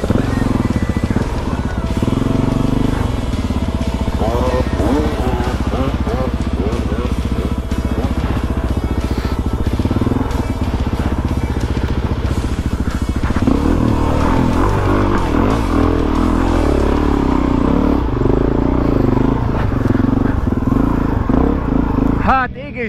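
A dirt bike engine, a Suzuki DR-Z400E or TM 300 enduro, runs and revs steadily up close in an outdoor off-road setting, with people talking over it throughout.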